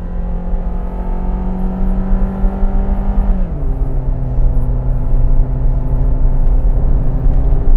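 A Suzuki All New Ertiga hybrid accelerates hard toward 4000-5000 RPM, its engine drone loud and close and climbing steadily, with a brief dip in pitch partway through as it shifts before rising again.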